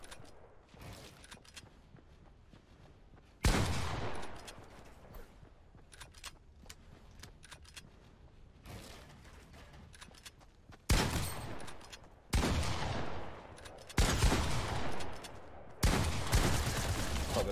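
Heavy shotgun blasts boom one at a time in a video game firefight, several sharp loud shots spaced seconds apart over a quieter background of lighter fire and movement.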